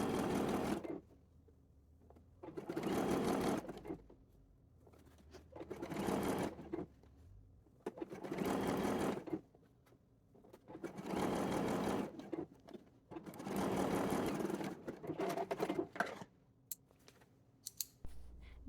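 A sewing machine top stitching elastic on a lace bodice teddy runs in about seven steady, loud bursts of rapid stitching, separated by short quiet pauses.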